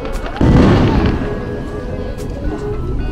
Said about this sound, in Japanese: すごい、花火。